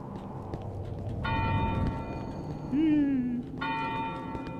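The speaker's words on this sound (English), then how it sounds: "Church bell, scary." A church bell in a video game tolls twice with clear, sustained metallic strikes over a low rumbling background. A voice speaks briefly between the two strikes.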